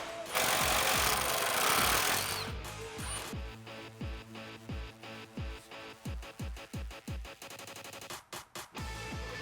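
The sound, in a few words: removing Jeep Wrangler TJ sway bar links with wrench and socket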